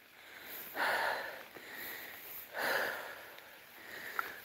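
A Belgian Malinois dog sniffing on a countryside walk in the rain, two bursts of quick nasal snuffling close by over a steady rain hiss.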